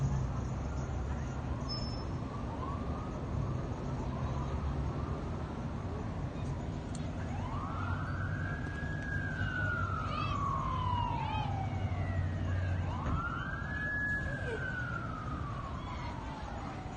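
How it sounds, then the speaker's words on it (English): Police sirens wail in long rising and falling sweeps, one after another, over a continuous rumble of street and crowd noise as police corral teens off a bus in Berwyn, Illinois. "And you can hear the sirens, there's more police."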